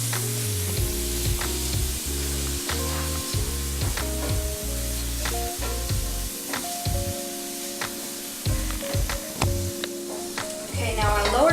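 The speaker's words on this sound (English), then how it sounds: "Saute these a little bit just to bring out those flavors" Garlic and onion sautéing in a pan sizzle steadily, with scattered utensil clinks and scrapes standing out over the frying; a few faint tonal pings appear along the way, and no one speaks.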